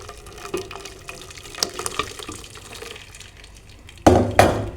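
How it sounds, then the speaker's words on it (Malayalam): Curdled milk poured from a pan into a metal strainer in a home kitchen, a steady soft liquid trickle that swells into louder splashing bursts near the end. "ഈ ഒരു സ്ട്രെയിനറിലേക്ക് നമുക്ക് ഇതിങ്ങോട്ടും ഇങ്ങനെ ഒഴിക്കാം."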